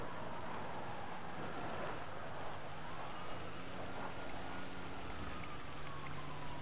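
Steady rain falls in GTA 5 Online, a continuous even hiss of drops with a low rumble underneath and no talk.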